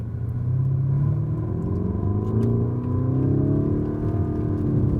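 A 2019 Lamborghini Urus engine revs up and down in a steady, loud rumble, rising and falling in pitch over several seconds, close by, with no talking.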